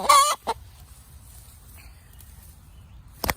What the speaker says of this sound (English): this is a broody chicken